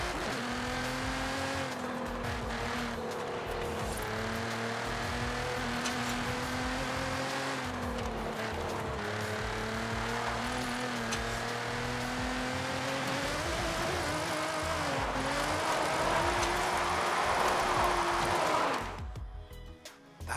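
A drift car in the Forza Horizon 5 racing game holds a long, loud engine drone with rising and falling revs and steady tire squeal, continuous for about eighteen seconds before cutting off abruptly, with no voices.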